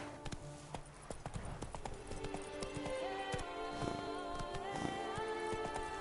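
Roach the horse gallops through Witcher 3: Blood and Wine, hooves clip-clopping in a steady quick rhythm under layered game music and ambience, fairly quiet overall.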